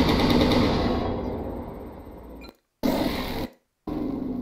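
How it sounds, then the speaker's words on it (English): The Hyper Assault Gauss, a heavy sci-fi energy weapon in MechWarrior Online, fires in loud, buzzing bursts, each cutting off abruptly into silence before the next volley begins. "This is the Hyper Assault Gauss."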